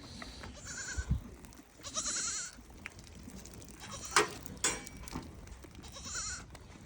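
Goats and sheep on a farm give several scattered bleats over rustling and movement, some close and loud, others fainter.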